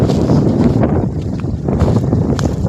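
Strong wind buffeting a microphone outdoors, a loud, continuous low roar and rumble that gusts slightly in strength throughout, with no clear voices over it.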